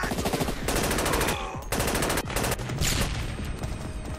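Rapid machine gun bursts in a snowy-area firefight in SAS: Secure Tomorrow, loud, near and rhythmic, broken by short pauses between volleys.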